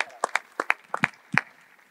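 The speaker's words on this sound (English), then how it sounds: "let's have a round of applause" Audience at a UFC fan Q&A event gives a brief, thin round of applause: a few scattered, fairly close hand claps in an uneven rhythm that fade out within two seconds.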